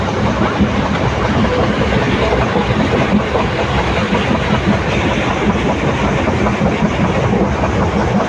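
A train between Palakkad and Kozhikode rumbles steadily along the tracks, loud and close, shaking, with continuous rattling and clatter from the carriages and no voices.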